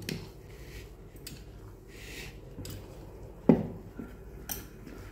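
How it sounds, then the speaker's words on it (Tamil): A spoon stirs fermented ragi idli batter in a vessel, making faint, soft scraping and squishing sounds broken by one sharper clink of metal against the container. "இப்போ நல்லா மிக்ஸ் பண்ணி விடலாம்."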